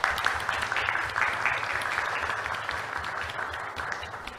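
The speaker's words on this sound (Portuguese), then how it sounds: "E eu quero pedir uma salva de palmas aqui para a irmã Áurea hoje" A round of applause at an itinerant municipal council meeting in Bom Despacho, Minas Gerais, sustained clapping from a gathered audience holding at an even level throughout, with no voices over it.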